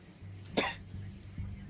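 A single short cough from a person, close and fairly soft, with faint background hum around it.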